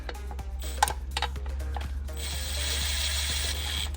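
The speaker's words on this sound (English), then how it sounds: "we're gonna use a gun with low torque just to put some pressure on each bolt." A low-torque air gun snugs oil pan bolts on a 2010-2018 Jeep Compass engine, giving short rattling bursts in quick succession and then one longer whirring run, close by with no talk.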